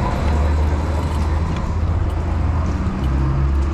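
From inside a car driven in bad weather, a low, steady road rumble and engine drone fill the cabin, with faint voices now and then.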